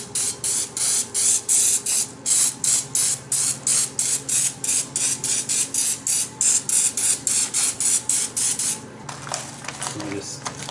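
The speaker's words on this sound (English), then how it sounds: "I spray it with olive oil spray again" Olive oil spray misted onto breadcrumb-coated fish outdoors, a rapid series of short, even hissing bursts in a steady rhythm, close and fairly loud, ending in faint handling sounds.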